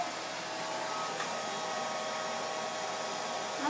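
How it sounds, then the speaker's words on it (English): A hair dryer runs continuously close by as hair is dried, a steady loud rushing hum with slight wavering and no one speaking. "I like to look at my face with makeup on it as I'm drying my hair"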